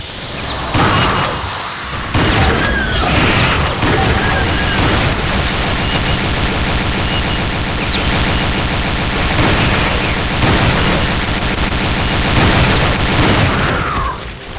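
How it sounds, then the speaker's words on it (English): Automatic turret fire in Aliens: Eradication, a Doom 2 total conversion, rattles as dense, sustained bursts mixed with booms and explosions across the whole stretch, loud and continuous with no talk over it. "Turret's got pretty good range."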